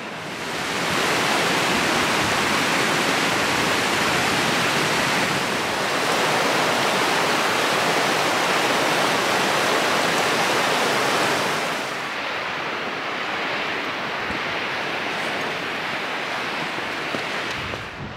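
Powerful roaring rush of a waterfall along a trail in Scotland between Dumfries and Moffat, a dense constant wash of white noise, loud and unbroken, easing slightly toward the end.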